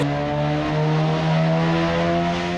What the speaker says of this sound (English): And with that new exhaust as well, we're definitely going to hear it.